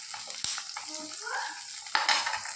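Two onions frying in a little oil in a pan, with a steady soft sizzle, occasional stirring scrapes and a louder burst of hissing near the end.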